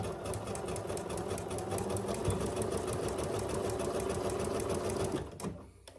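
A sewing machine runs a zigzag stitch across the serged seam ends of a tote bag, a fast, even mechanical chatter that holds steady for several seconds before stopping abruptly.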